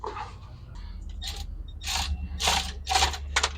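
Socket wrench ratcheting on the distributor of a 1968 G20 van, close bursts of rapid clicking with metallic scraping and handling between them, no talk.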